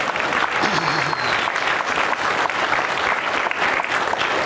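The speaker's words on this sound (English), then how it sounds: "they need a round of applause right there" A standing audience applauds mothers of young children at a Mother's Day church service, steady dense clapping that fills the whole stretch at close, loud level with a few voices mixed in.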